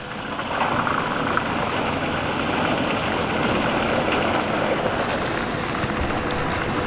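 A Tigercat 822D forestry machine's engine holds a loud, steady roar close by, revved up and droning evenly without a break.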